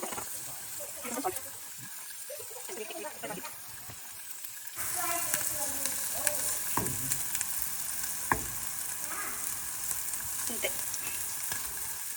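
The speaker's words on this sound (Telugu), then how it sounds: "సో ఇలా బటర్ హీట్ అయ్యాక ఇలా పన్నీర్ని అయితే ప్లేస్ చేసుకుందాం" Paneer is set down in heated butter in a pan. A quieter sizzle with scraping gives way midway to a louder, steady frying hiss, and occasional clinks stand out.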